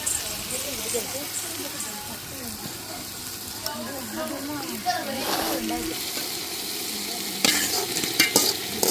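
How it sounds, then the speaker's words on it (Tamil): Tomatoes frying in a pot for home-cooked chicken biryani are stirred with a spoon, giving a steady close sizzle under repeated scraping strokes that grow busier toward the end. "கிண்டிட்டு தக்காளி நல்லா வதங்கட்டும்"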